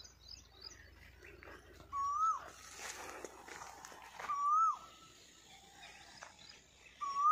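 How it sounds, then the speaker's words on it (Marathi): A favourite bird calls repeatedly from a tamarind tree beside farm fields, its clear rising-falling whistles coming at intervals amid light rustling and other faint chirps. "इथं माझ्या आवडीचा पक्षी ओरडतोय"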